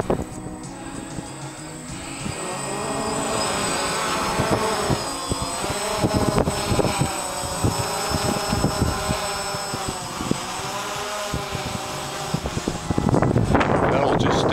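Walkera QR SpaceWalker eight-motor octocopter hovering in gusty 18 mph wind, a steady whirring drone under heavy wind buffeting that persists throughout, with someone speaking briefly over it.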